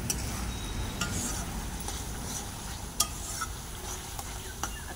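Spice paste frying in oil in a pan for a potato curry, a soft steady sizzle broken by repeated scraping stirs and a few sharper clinks of the spoon against the pan.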